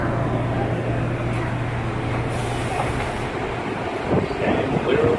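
A Bombardier R179 J local subway train rolls along the rails toward Manhattan near Myrtle Avenue, a steady loud rumble and rattle from inside the car with a faint hum and no clear clatter peaks.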